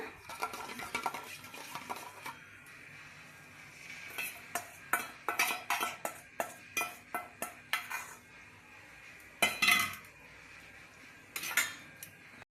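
A second plain omelette cooks in oil in a pan while a metal utensil clinks and scrapes against it in sharp, irregular taps over a faint sizzle, with no speech.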